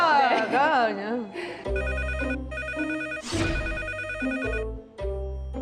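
A telephone rings with a steady, repeating electronic tone, heard under background music and a brief voice at the start.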